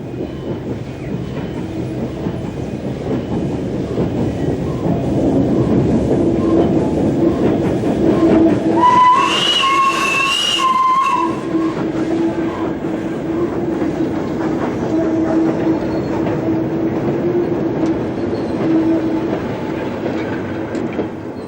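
A steam locomotive train runs past loudly on the North Yorkshire Moors Railway with a steady rumble and rhythmic clatter, with a brief high whistle-like tone midway before the noise settles back.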